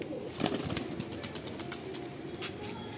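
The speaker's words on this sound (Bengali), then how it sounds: "আসুন এই দুটো পায়রা উড়িয়ে দাদা দেখাচ্ছেন আপনাদের" Two green ice baby pigeons are released, their wings giving a quick burst of flapping flutters early on that fades, over a faint outdoor background with no speech.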